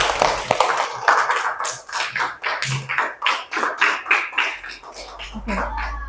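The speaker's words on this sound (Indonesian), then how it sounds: "tepuk tangan untuk kita semua" A classroom of students in an Indonesian school lesson breaks into applause, with quick rhythmic clapping bursts alongside voices.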